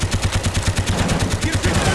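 Rapid machine gun fire from a tower position in a Black Ops combat mission, a steady rhythmic stream of close, loud bursts running the full length with faint shouted voices underneath.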